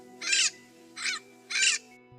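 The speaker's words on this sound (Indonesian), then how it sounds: "Mulai dari burung-burung yang pagi itu tengah bernyanyi dengan merdu" Three loud, harsh caws from a crow ring out in the Amazon rainforest in the morning, evenly spaced bursts over a faint steady background hum.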